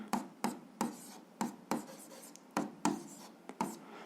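Pen or chalk strokes write an algebra expression, about a dozen short scratchy taps and scrapes in an uneven rhythm, close and fairly quiet with no voice.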